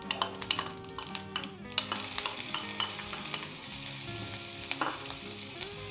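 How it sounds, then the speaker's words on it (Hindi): Ginger garlic paste hits hot vegetable oil for Punjabi-style turmeric chicken, giving a steady, close sizzle with clinking spoon-stirring scrapes throughout and no voices. "अब हम इसके अंदर जो है अदरक लहसुन का पेस्ट डालते हैं।"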